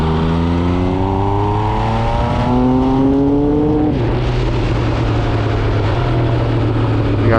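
A 2020 MV Agusta Brutale 800RC motorcycle accelerates hard through its gears, with rising engine harmonics that climb, drop at a shift near four seconds and continue as a steady, loud roar close by, with no talk.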